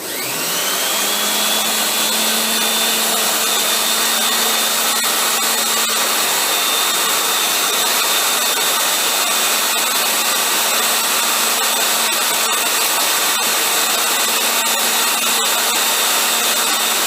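A jig grinding attachment on a lathe grinds a metal workpiece with a steady, loud high-pitched whine that holds unbroken throughout, with no talking.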